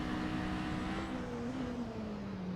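A Ford GT500 race car engine in a racing video game at Road America drones steadily, its tone dropping and shifting as it downshifts through the gears. It is faint and continuous with no talk.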